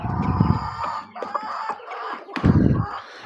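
A rooster crows and clucks up close and loud amid agitated fowl, in a farmyard where two roosters have been fighting; the calls come in choppy bursts with no talking.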